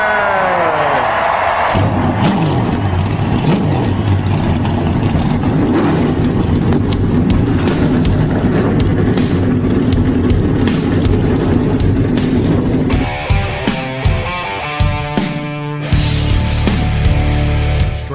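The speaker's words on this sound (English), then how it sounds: "Driver, start your engine!" A NASCAR race car engine fires and revs hard, a loud, sustained roar that climbs and shifts pitch, with crowd-like noise and a burst of changing gear tones near the end.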